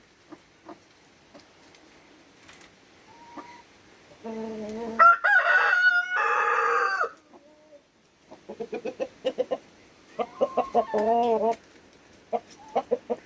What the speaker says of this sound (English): Red rooster doing his little rooster dance.